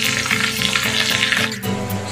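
Green chillies and masala deep frying in hot oil, a dense, steady, close sizzle with soft bubbling and rhythmic stirring pulses underneath.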